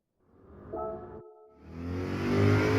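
A Corvette race car in Gran Turismo 7, time trial at Sardegna Road Track, revs up from silence, dips briefly, then builds into a rising, loud engine roar toward the end.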